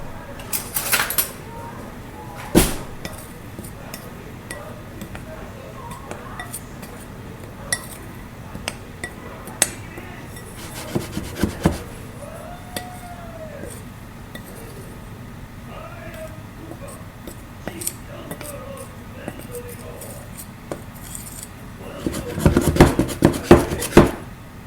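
Dry baking ingredients and salt are stirred in a bowl, producing scattered clinks and scrapes against the bowl, a few louder knocks, and a busier burst of clattering near the end, with faint background room noise.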